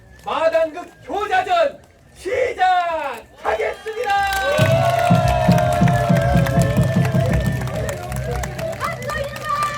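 An audience at a theater troupe's performance at a flower festival bursts into loud, sustained clapping and cheering after a few seconds of someone speaking into a microphone.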